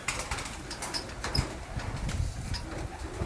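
Pigeons in an abandoned building coo softly with low, rounded calls, joined by a brief flutter of wings and faint scattered knocks in the background.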